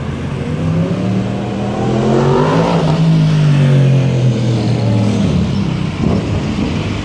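A Yamaha R1M sport motorcycle's loud, continuous exhaust revs up and holds a high pitch before easing slightly, a steady roar with no talking.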